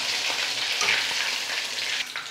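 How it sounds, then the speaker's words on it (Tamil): Fish fried in a pan gives off a loud, steady sizzle of hot oil that crackles and spits continuously, close up and unbroken, with no voices. "இப்போ எல்லா மீனும் வந்து இதே மாதிரி பொறிச்சு எடுத்துக்கலாம்"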